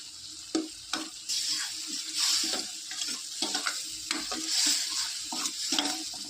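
Food frying in oil in a pan, stirred as it cooks, gives a steady close sizzle with repeated scraping and clicking strokes throughout.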